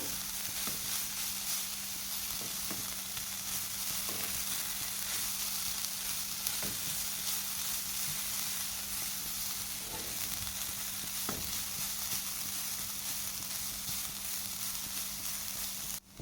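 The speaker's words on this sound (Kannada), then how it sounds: "ಇದನ್ನು ಚೆನ್ನಾಗಿ ಫ್ರೈ ಮಾಡ್ಕೊಳ್ಬೇಕು" Grated carrot fries for carrot halwa over low heat, giving off a continuous, dense sizzle with a few faint stirring scrapes, steady and close throughout.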